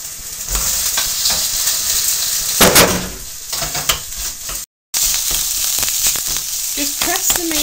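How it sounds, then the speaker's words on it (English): Ground meat frying loudly in a hot pan for spaghetti bolognese, a close continuous sizzle with stirring and scraping noises, broken by a very short gap, with no talking. "Just press the meat down into the pan, breaking it up so that it will all brown."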